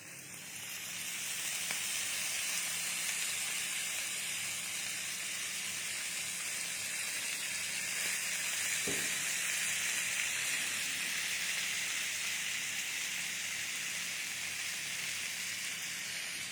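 Butter melting in a hot pan gives a soft, continuous sizzle and hiss that holds at an even level for the whole stretch, with one brief clink partway through and no talking.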